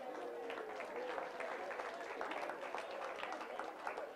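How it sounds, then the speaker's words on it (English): Audience applause filling a room at a gathering at the Inside Edge, steady and sustained throughout with dense clapping and murmuring voices mixed in, fairly faint and distant. "Give yourself and each other a round of applause."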